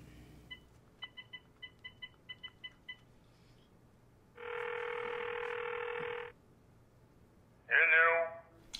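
A telephone being dialed: a rapid series of short touch-tone beeps, followed by a steady ringing tone and then a brief burst of ringback, clear and close with no talking.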